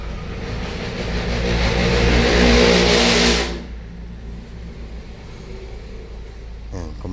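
A Nissan Almera engine with P1121 and P0102 faults revs up loud and steady for about three seconds, then drops back to a lower idle hum that keeps running to the end.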